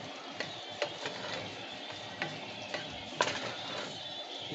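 A pureed Roma tomato mixture with black pepper cooking in a pan, a soft steady sizzle broken by scattered light clicks and scrapes of stirring, close and fairly quiet.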